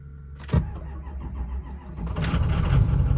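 A Ford 6.0 Powerstroke truck diesel engine cold starting on a low battery: a sharp crank burst, then a rough building rumble rising into a loud close idle.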